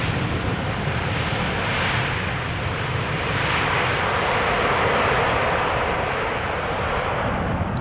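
A KLM Boeing 787-10 Dreamliner in 100-year special livery arriving at Amsterdam Schiphol from New York JFK, a loud, steady broadband jet roar that holds unbroken throughout.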